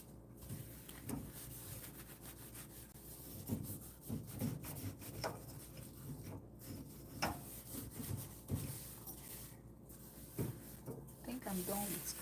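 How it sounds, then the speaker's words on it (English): Scrubbing in a home kitchen, with close, repeated rubbing and scraping strokes in an uneven rhythm and scattered knocks, fairly quiet throughout. "I'm done with scrubbing."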